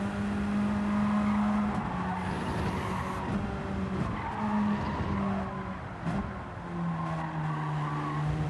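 Race car tires squealing and skidding under late braking in Gran Turismo 7, with a sustained whining screech over a roaring engine, the squeal wavering in pitch for several seconds.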